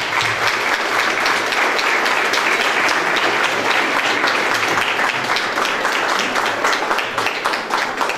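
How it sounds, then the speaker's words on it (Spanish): An audience applauds steadily and fairly loudly for a guest volunteer being introduced at an event at Tec de Tlatlauquitepec, a dense, even wash of clapping that holds for the whole stretch without voices on top. "Démosle un aplauso a Emily Marshall"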